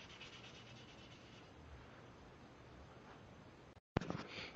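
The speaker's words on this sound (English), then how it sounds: "continue rubbing it down with this flexible sandpaper." Steady abrasive rubbing of flexible sandpaper on a PS3 controller shell during paint prep, a continuous close scratchy sanding texture that breaks off briefly near the end, then a short louder scuff.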